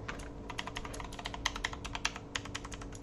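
Rapid, close-up clicky typing on an AKKO DS Horizon V2 mechanical keyboard with Blue switches and double-shot PBT keycaps, a steady run of crisp, sharp keystrokes heard alone at moderate volume.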